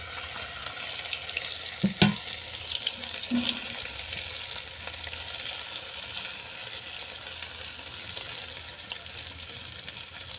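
Continuous sizzle of a bean paste frying in hilsa fish oil, with a few brief clatters of a spoon early on, fairly quiet and steady.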